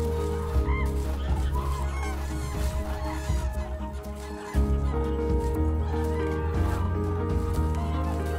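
Cranes call during their mating dance at Lake Hornborga, a dense chorus of loud honking, trumpeting bird voices overlapping continuously from many birds at once, with no one talking.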